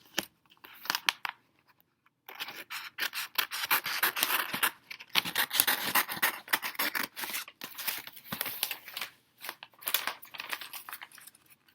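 Scissors snip repeatedly through material for a DIY home decor project, a close series of crisp, quick cuts and rustles in an uneven rhythm after a brief pause, with no talking.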